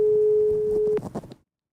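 A steady telephone ringing or calling tone sounds for about a second on a call to a founder, then cuts off into brief muffled noise before silence.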